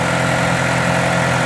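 A 1990 Eagle Talon TSI engine idles after sitting unused for 19 years, giving off a steady, close, continuous rumble with no other sounds over it.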